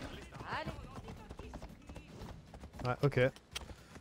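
Horse hooves clip-clop in Assassin's Creed Odyssey, a soft irregular run of nearby hoof knocks and creaks, with a person briefly talking over them.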